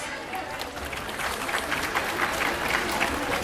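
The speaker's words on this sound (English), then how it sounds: "Please give yourself a big round of applause" Parents in the audience at a school annual function applaud, a dense, even wash of many hands clapping that holds steady and builds slightly throughout.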